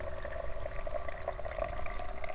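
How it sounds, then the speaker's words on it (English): Fuel trickling from the tank drain of a Piper Comanche into a sampler during a simulated preflight check, a soft continuous liquid pour with faint bubbling under a low hum. "We'll pull another fuel sample."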